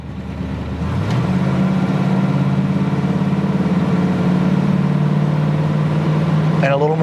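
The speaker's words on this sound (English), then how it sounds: "Let's give it a little gas here." The V8 of a 1972 Dodge Challenger rises from idle into a steady, loud, throaty rev as gas is applied and holds there, with a voice briefly audible at the end.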